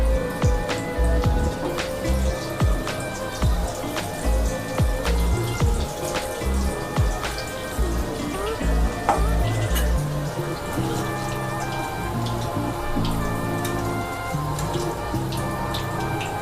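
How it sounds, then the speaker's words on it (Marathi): Cabbage vadi sliding into hot oil to fry over a low flame, with a dense crackle and bubbling held at an even level and mixed with kitchen clatter and a few knocks. "तेल गरम झाले, आपण आता वडी तळून घेऊया।"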